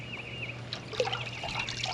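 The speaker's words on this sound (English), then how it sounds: "Then let that excess water drip out." Excess water drips and trickles out of a soaked leather baseball glove, a soft, close patter of wet splashes running continuously over a low hum, with no talking.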